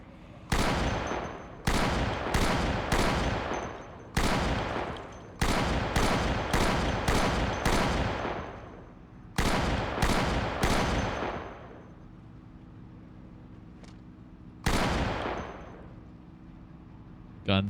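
Repeated gunfire in the zombie survival video game Project Zomboid: several bursts of loud, close shots in quick rhythmic clusters, separated by short pauses, with a final lone shot near the end over a low steady background.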